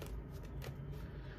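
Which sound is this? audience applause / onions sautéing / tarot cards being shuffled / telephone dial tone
tarot cards being shuffled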